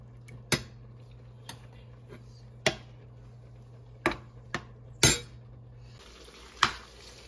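Paneer pieces fry in a pan for a palak matar paneer sabji, giving a soft steady sizzle that is broken by several sharp clinks of a utensil against the pan. There is no talking.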